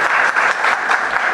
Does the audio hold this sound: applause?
yes